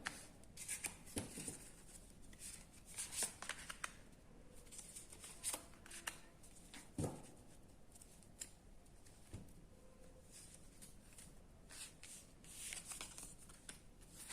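Tarot cards are shuffled close by, soft papery riffles and rubbing strokes in irregular bursts, faint and without talk.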